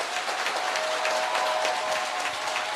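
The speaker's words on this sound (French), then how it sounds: "vous allez entendre leur acclamation." Studio audience on a TV set bursting into sustained applause and acclaim, a dense, even roar of clapping filling the room at a constant loud level.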